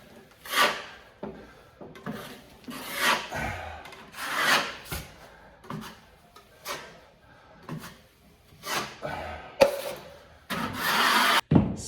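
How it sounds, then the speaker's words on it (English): A drywall knife held flat, scraping and wiping joint compound over a wall patch, in repeated rasping strokes of varying length that are fairly close and loud, with pauses between passes. "When you're wiping, leave your knife flat."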